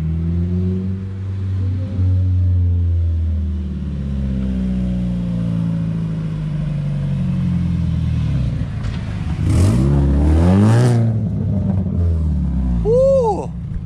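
Nissan R33 car engine revving nearby: a deep, loud idle rumble that climbs into rising and falling revs near the end, with a sharp high rise at the close.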